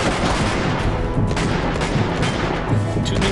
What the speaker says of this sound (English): Use blind fire to push them back while staying safe yourself behind cover